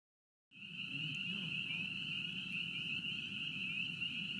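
A dense chorus of spring peeper frogs calling, a steady, loud, high-pitched trilling that starts abruptly and holds constant throughout.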